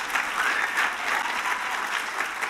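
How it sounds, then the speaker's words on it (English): Audience applause at a women and leadership evening event, steady clapping from a crowd filling the room, moderately loud and unbroken. "I assume that's applause for surviving"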